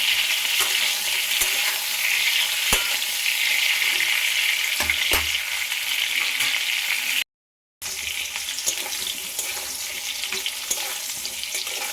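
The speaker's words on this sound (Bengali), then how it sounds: "গ্যাসের ফ্লেমটা কিন্তু আমি হাই টু মিডিয়ামে রেখে পটলটা ভাজছি।" Pointed gourd pieces frying in a pan over a high-to-medium gas flame give a steady, close, dense sizzle throughout, with occasional soft stirring clicks and a brief gap partway through.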